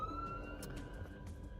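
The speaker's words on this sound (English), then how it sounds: "I'm just conscious there is an ambulance on the horizon here." A faint ambulance siren wails in the distance beneath low road noise near a McDonald's drive-thru, its tone holding steady for a moment.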